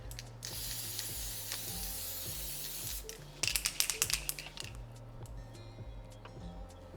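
Gold edible spray paint hissing from a can in a kitchen, a long steady spray then a short break and a few quick bursts, over a low rhythmic mechanical hum.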